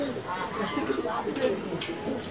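Pigeons cooing in a crowded loft holding fancy breeds, soft low coos repeating under nearby voices and general room noise.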